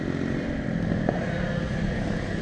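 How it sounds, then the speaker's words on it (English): A racing go-kart engine on an outdoor track on a cold late afternoon makes a steady, droning, buzzing hum at moderate distance, with no clear throttle swells. "we'll really be able to hear his throttle action right on and off the gas"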